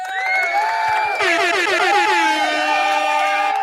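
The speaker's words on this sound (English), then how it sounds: "Air horns all around." Several loud air horns blare at once in long, overlapping sustained blasts, with a faint crowd underneath.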